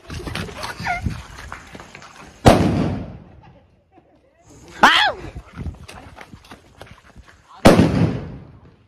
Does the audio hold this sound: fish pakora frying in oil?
no